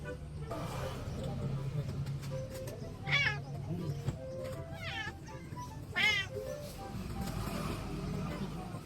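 A few distinct meows from stray cats ring out, spaced several seconds apart, over a quiet background with faint voices.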